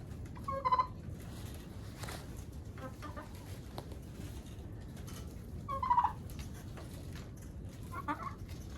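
Domestic turkeys fed on a grain mix gobble in two loud, close bursts near the start and around six seconds, with fainter clucking and poultry calls scattered between them over a low barnyard rumble.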